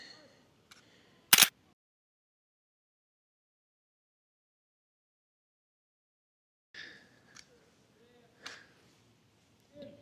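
Shutter of a Fuji GFX100S II during a 1.3-second handheld exposure at f/11, ISO 80: a sharp, loud click near the start, then quiet, followed later by faint handling rustles and softer clicks.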